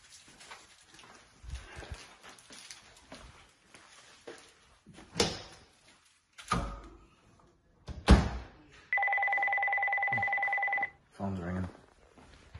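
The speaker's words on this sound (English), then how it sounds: "Phone's ringing." An electronic telephone rings once with a steady, sustained tone lasting about two seconds, set among scattered knocks and handling bumps in a quiet room.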